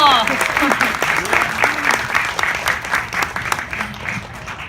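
Audience applause fills a small jazz club in Itaewon, dense steady clapping close by with a few voices and cheers mixed in, tapering slightly toward the end.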